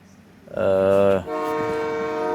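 A train passes along the coast near Colombo, with a loud, close horn blast that is followed by a slightly softer sustained horn tone over the rumble of the passing cars.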